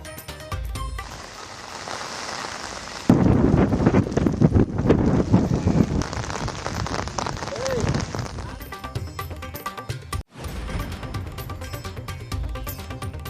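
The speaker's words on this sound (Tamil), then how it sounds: "பெஞ்சல் புயல் காரணமாக மரக்காணம் பகுதியில் பலத்த காற்று." Strong cyclone winds from Cyclone Fengal lash the Marakkanam area, a loud continuous roaring rush of wind buffeting the microphone, with gusts swelling and dropping across the whole stretch.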